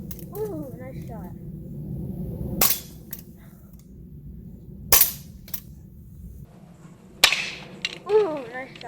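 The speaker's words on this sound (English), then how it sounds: "I'm gonna shoot some cans" Three sharp, evenly spaced shots from an Umarex HK VP9 CO2 blowback BB pistol at cans, each a crisp close crack with a metallic ring, while a voice speaks between them.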